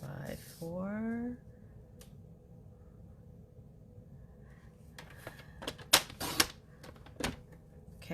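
Paper trimmer blade cutting a 4 by 4 inch piece of card during a simple twist-fold card project: a brief rasping slice at the start, then scattered clicks and taps of handling in a quiet room.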